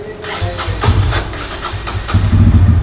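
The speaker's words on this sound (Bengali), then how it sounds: "এইবারে হচ্ছে আমরা যাব স্টার্টে, সেলফ স্টার্ট" Bajaj Pulsar N160 FI ABS motorcycle cranking on its electric self-starter, then catching and settling into a steady close idle, with a low engine rumble throughout.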